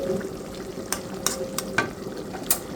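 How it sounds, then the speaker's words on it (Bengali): A spatula stirs river tengra fish bhuna in a pan, giving a low background sizzle broken by several sharp taps and scrapes at irregular intervals, close and without speech. "এখন একটু নেড়ে ছেড়ে দিচ্ছি।"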